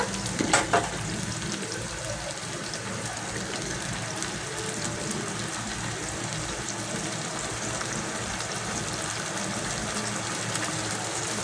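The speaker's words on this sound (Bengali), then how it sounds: "এখন আমি এটাকে কিছুক্ষণ ভেজে নেব" Food frying in a pan with a constant soft sizzle, opening with a brief clatter of stirring, then a steady hiss throughout.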